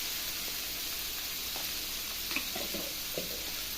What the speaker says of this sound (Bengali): আর এই শুকনো লঙ্কা দিয়ে দিচ্ছি। সব ভেজে নিচ্ছি।